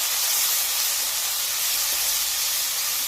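Spice paste for shukto sizzles loudly as it fries in a pan, a steady, dense hiss that holds unbroken throughout.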